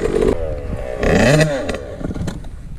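Small Yamaha YZ 65 dirt bike being ridden by a learner practicing stops and starts, its engine rising in a brief rev near the middle under surrounding talk and background noise.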